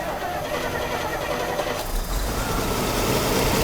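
A 1987 Bentley Continental Drophead engine turns over and settles into a steady, smooth idle, a close continuous rumble with a low surge partway through.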